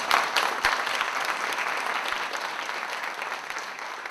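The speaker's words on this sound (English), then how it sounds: "That applause break was the first of several from the seemingly friendly crowd" A room full of people claps steadily, a dense wash of applause that swells at the start and holds fairly even throughout.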